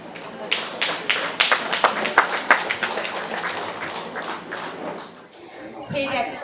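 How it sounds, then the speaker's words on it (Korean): Spectators at an outdoor evening festival performance in Seogwipo welcome a theatre troupe. Scattered individual claps build into a steady round of applause that gradually fades, with voices and crowd noise underneath. "여러분 큰 박수로 모두를 맞아주십시오"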